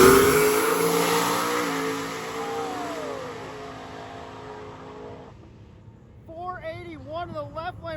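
A Ford Mustang drag car at a street-car race event roars hard down the strip, loud at first and then fading into the distance. Someone's voice rises over the fading noise near the end.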